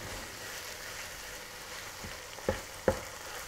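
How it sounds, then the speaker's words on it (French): Minced meat dusted with flour and stirred in a pan, frying at a quiet, soft sizzle, with two sharp utensil scrapes near the end as it is mixed, no talking. "Une fois que vous avez égrené votre viande hachée, on va saupoudrer avec un petit peu de farine. On mélange."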